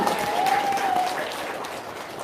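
Steady audience applause fills the short stretch, a dense even patter of clapping that holds at moderate level and tapers slightly toward the end, with no talk over it.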